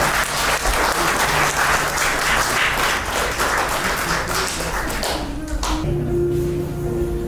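A wedding congregation applauds and cheers inside a church, a dense sustained clapping that fills the space, with a low hum beneath and the clapping thinning out near the end.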